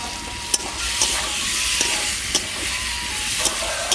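Fried potatoes and cauliflower sizzling with spice paste in a pan, with a loud, continuous frying hiss and occasional clicks from stirring.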